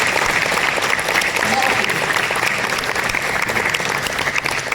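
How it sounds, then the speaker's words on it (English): Sustained round of applause from a ceremony audience at the IPO listing of Travelcare Limited, many hands clapping in a thick, continuous wash at constant loudness with no gaps. "Can we have one round of applause for the company?"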